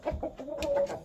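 A fighting rooster gives short clucking calls in a quick sequence, close and clear with no talk.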